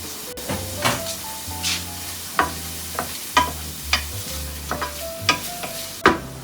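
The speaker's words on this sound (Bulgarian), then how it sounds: "Докато лука се запържва" Onion frying in a home kitchen pan: a soft, steady sizzle broken by a series of sharp scrapes from stirring, roughly one every half second to second, with faint background tones.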